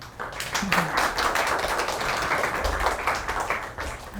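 Warm applause from a forum audience greeting a guest lecturer on food tech, a thick, even burst of many people clapping close by, with a brief voice underneath.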